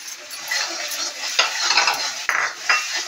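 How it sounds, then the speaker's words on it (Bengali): Spice paste with turmeric, salt and a little water fries in oil while a spoon stirs it, giving soft sizzling under a few louder scraping strokes against the pan over a few seconds. "হয়ে গেছে আমার মশলা ভাজা, তেল ছেড়ে দিচ্ছে।"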